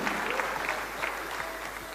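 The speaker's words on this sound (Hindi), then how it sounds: "आपकी तालियां खुद ब खुद बज रही हैं" Audience at a motivational talk on network marketing breaking into applause, a short burst of steady clapping from many hands, moderately loud and even throughout.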